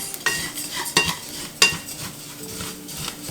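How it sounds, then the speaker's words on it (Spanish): Rice toasting in a pan for Mexican white rice, with soft sizzling, a few sharp popcorn-like crackles and pops, and a utensil scraping and stirring. "¿Escuchan cómo truena? No sé si se escucha, truena como palomitas"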